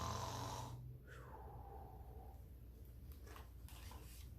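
During a children's storytime reading, a voice imitates a loud drawn-out snore, followed by quieter breathy, snuffling sounds and a few soft knocks.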